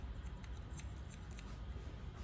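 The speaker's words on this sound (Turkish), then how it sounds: "Bakın gördüğünüz gibi makasla iz silme tekniği böyle oluyor gençler." Barber's scissors snip through hair in a faint series of quick, light clicks with a soft rhythm, close up and alone in a quiet room.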